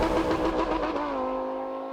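A Lamborghini Huracan V10 engine roars loudly and close, revving hard, then settles into a steadier, smoother drone that fades slightly toward the end.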